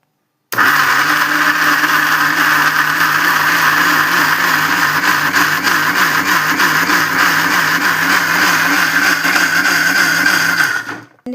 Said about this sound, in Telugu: వేసుకున్నాక ఇది ఒకసారి మిక్సీ పడతా ఫ్రెండ్స్